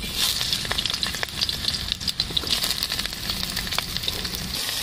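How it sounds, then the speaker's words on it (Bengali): Eggplant pieces frying in hot oil for a vegetarian dish give a continuous close crackling sizzle with small pops, steady and fairly loud, no voices. "বাদামগুলো ভেজে নিয়েছি, আবার একে একে সবজিগুলো আমি ভেজে নেব। বেগুনগুলো দিয়ে দিচ্ছি।"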